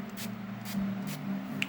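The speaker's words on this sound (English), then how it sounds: "So we're going to go ahead and set her makeup with this. I'm just going to spray it from over here." Makeup setting spray misted onto a face at close range: about three short, soft hissing bursts spaced roughly half a second apart over a quiet room.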